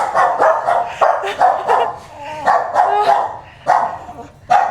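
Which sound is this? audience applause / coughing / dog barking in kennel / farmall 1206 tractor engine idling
dog barking in kennel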